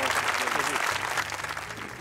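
A mushaira audience applauds as a doctor-poet is invited to the stage at an Eid comedy poetry gathering, with dense, steady clapping that sounds mixed with a voice over it.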